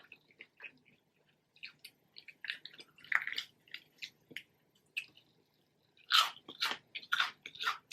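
Crunchy, spicy fried chicken from Church's Chicken is bitten and chewed up close: a run of sharp, crisp crunches and wet squishy chews, bursting loudest toward the end, with no talking.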